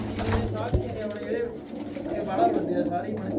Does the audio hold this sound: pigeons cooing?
yes